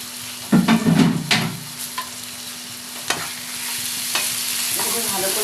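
Small chopped chicken pieces dropped into cooked masala in a pan, a burst of sizzling followed by steady frying and occasional spatula scrapes.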